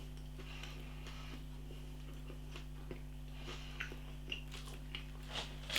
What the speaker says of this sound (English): the crunchy skin on the outside. It's such a refreshing crunch.